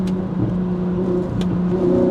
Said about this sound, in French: Qu'est-ce qu'ils sont jouissifs les downshift aussi.